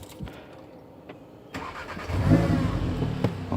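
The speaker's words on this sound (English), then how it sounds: "The next stage in the tutorial is to start the car." An Audi S3 facelift is started up close: a short starter crank catches into a rising rev, then settles into a steady, throaty idle.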